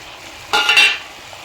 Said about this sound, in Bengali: এখন আমি কেটে রাখা টমেটো দিয়ে দিচ্ছি।